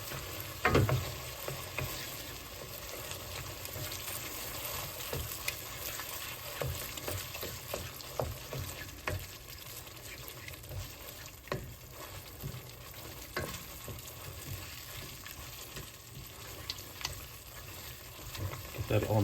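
Chicken noodle soup with melted cream cheese being stirred in a pot: soft scraping and liquid swishing over a low continuous sizzle, with a few sharper knocks of the utensil against the pot.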